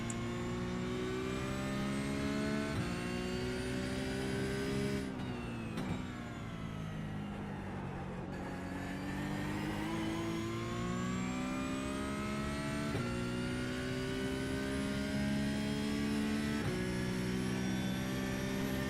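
A cup car engine in a racing simulator, a close, steady mechanical drone whose pitch climbs and falls through gear changes with brief dips, running continuously without voices.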